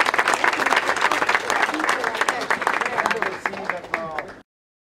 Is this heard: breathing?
no